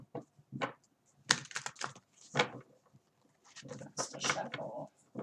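Tarot cards being shuffled by hand in irregular papery riffles and flicks, close up, with pauses between bursts.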